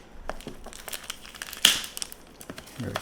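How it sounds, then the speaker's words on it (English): Plastic bag from a Stax SR-X9000 headphone box being opened, with soft crinkles and rustles close by, then one sharp loud crackle partway through as the bag tears open, and light handling after. "So we'll go ahead and open this plastic bag as well."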